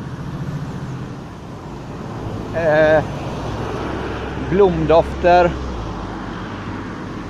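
Steady low rumble of road traffic, buses and cars passing throughout, while a person speaks briefly in the middle.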